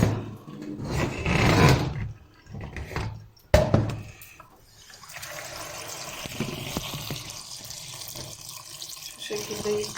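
Running kitchen tap water washes fresh strawberries for jam, a close, steady gush and splash after some handling clatter and a sharp knock, with brief talk early on.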